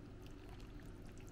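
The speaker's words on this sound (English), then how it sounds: "I simply transfer the broth" Pho broth from an Instant Pot is poured into a bowl, a faint continuous liquid pour heard close.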